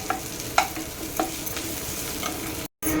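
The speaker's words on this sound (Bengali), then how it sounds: "এটা হালকা করে ভাজতে হবে, নাহলে পুড়ে যাবে" Spring onions frying gently in a pan with oil, a steady low sizzle broken by a few soft stirring knocks and scrapes, close by, with a brief dropout near the end.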